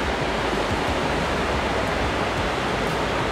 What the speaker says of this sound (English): Beautiful waterfall, let me jump right in it.